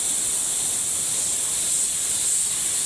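Paasche Talon airbrush fitted with a 0.66 mm needle and nozzle, trigger pulled back slightly for a wide spray pattern: a steady, close, loud hiss of compressed air and paint that holds unbroken from start to finish.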